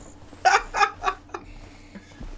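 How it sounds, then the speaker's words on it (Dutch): Chicken clucking in the horror video game Pacify, three or four quick loud clucks in a row followed by a softer trailing cluck, close and clear over a quiet background. "Kip!"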